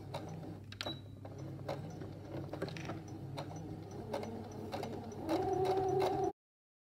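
A sewing machine stitches a fabric bunny-ears hair tie, a low, steady mechanical whir with faint ticks, then a brief higher-pitched hum near the end before it cuts off.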